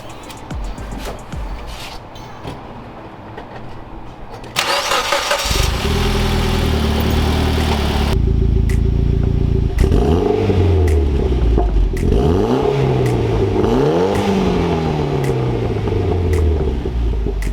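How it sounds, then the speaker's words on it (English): A Mitsubishi Lancer Evo X with freshly replaced spark plugs cranks briefly, fires up loudly, and settles into a steady idle, then gets several rising and falling revs that swell and drop back, heard close by. "see if the engine starts without any misfires"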